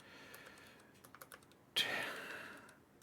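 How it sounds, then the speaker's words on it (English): Quick taps on a computer keyboard, a scattered run of soft, close keystrokes followed by a louder burst of clattering keys that fades away, quiet overall with no talking. "Who knew typing on the internet would be so difficult?"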